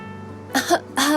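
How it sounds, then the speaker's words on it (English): Two short, harsh coughs close to the mic, the second following the first after a brief pause. "While coughing uncontrollably with my eyes squeezed shut"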